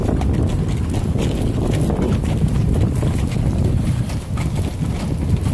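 Vienna fiaker carriage horse hooves clip-clop steadily over continuous wind and outdoor rumble, the rhythmic hoofbeats fairly close and partly masked by the noise.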